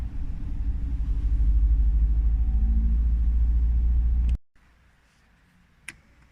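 A car drives near Dale Hollow Lake, its deep, steady low rumble filling the first four seconds before cutting off abruptly, leaving near silence with a faint tick.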